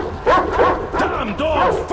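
A dog in the post-apocalyptic shooter Metro Exodus gives a rapid run of close, loud barks and yelps over about two seconds, with the game's ambient sound underneath.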